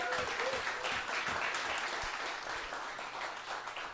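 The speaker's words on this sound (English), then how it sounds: "Don't necessarily applaud that." A studio audience applauds for about four seconds at a live comedy podcast taping, the dense clapping steady and fairly loud with a little talk underneath.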